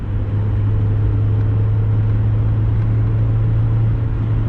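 Mazda Miata four-cylinder engine droning steadily from inside the cabin on a night drive, a loud constant low hum with road rumble, no talking.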